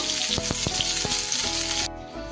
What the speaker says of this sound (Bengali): এই কাঁকরোলটা ভালোভাবে ভাজা হতে হতে